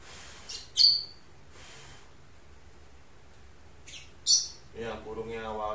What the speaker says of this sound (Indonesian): Jadi progres pertama tuh biasanya dia cacit-cacit dulu yang awalnya sama sekali nggak bunyi